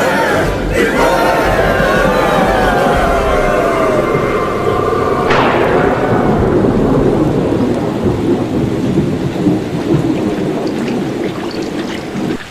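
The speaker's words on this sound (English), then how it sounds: "Is it raining in there? It's raining out here, too." Heavy, steady rain pours throughout, with loud rolling thunder and a sharp crack about midway, dense and close, with no speech over it.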